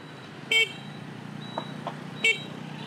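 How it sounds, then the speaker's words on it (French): Two short car horn honks, about two seconds apart, rise over a steady hum of city traffic in Hue, Vietnam, with a couple of faint beeps in between. "il va falloir que je klaxonne, je pense"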